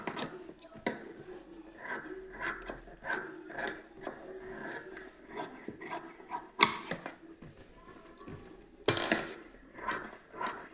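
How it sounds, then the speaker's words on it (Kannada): Scissors snip away excess fabric at close range: a string of short rasping, creaking cuts in an uneven rhythm, with two sharper, louder snips near the end. "ಎಕ್ಸ್ಟ್ರಾ ಫ್ಯಾಬ್ರಿಕ್ ಇರೋದೆಲ್ಲ ಕಟ್ ಮಾಡಿ ತೆಗಿತೀನಿ."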